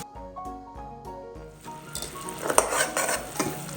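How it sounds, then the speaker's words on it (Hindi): Semolina is stirred and roasted in a pan for halwa, with a spoon scraping and a soft sizzle running close and steady. Music plays under it at first, then fades beneath the busy stirring. "दूसरे चूल्हे पर जो हमने सूजी रखी थी इसको भी साथ साथ हिलाते रहेंगे"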